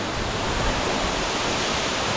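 Roar of a waterfall heard from the bottom of the falls, a steady, loud, dense wash of falling water that fills the whole clip without a break.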